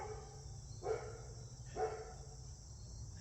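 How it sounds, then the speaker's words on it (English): A dog barks twice outdoors, two short distant barks about a second apart over faint crickets and quiet night ambience. "And so now Maisie's over here barking."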